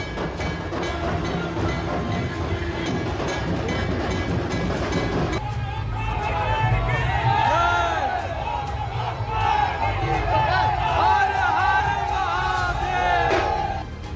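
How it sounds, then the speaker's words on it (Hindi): A large, dense crowd gathered in Prayagraj for Baba Bageshwar, with children, women and men present. It makes a continuous loud roar and chanting that swells partway through, with voices shouting over it. "जिधर देखो बस भीड़ ही भीड़ है"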